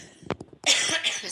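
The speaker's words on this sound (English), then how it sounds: "now I'm going to go on a coughing fit" A woman coughs in a short burst: two sharp, close coughs followed by a longer, rougher hacking cough that fills the rest of the moment.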